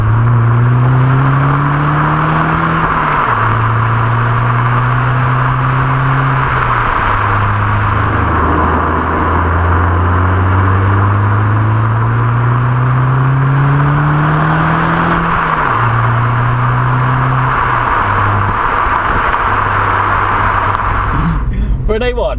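Audi A1 with a 1.4 litre, 122 horsepower engine and a Milltek cat-back exhaust, revved repeatedly while stationary, the engine note climbing and dropping in several loud, close blips, ending with a brief rustle.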